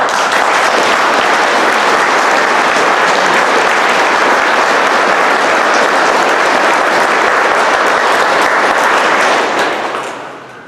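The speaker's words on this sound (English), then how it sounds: "I'd like to ask for a huge round of applause for these 5 gentlemen" Loud, sustained applause from a large crowd at a fire station dedication, steady clapping for about ten seconds before fading out at the end.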